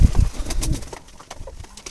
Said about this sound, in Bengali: পিওর জংলি জালালি বুনো কবুতরের লফট এটি।